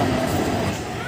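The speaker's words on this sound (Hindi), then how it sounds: "निकल गई मेट्रो" A metro train pulls out of the station with a dense, steady rumble of wheels and motor, loud and close, while people talk nearby amid the crowd noise of the platform.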